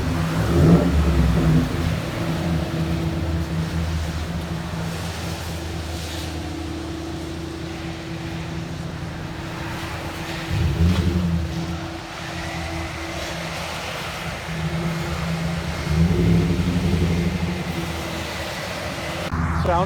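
A 2014 Ford F-150 Lariat with a 5.0L V8 and Flowmaster Super 10 exhaust idles with a deep, steady burble, then rises in a few revving swells before settling back, loud and close.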